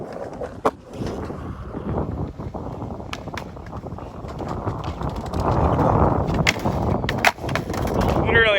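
Skateboard tricks at a skate spot, with repeated wheel rolling and sharp board pops and clacks scattered through a continuous rumble, as well as some wind noise and brief voices in the background.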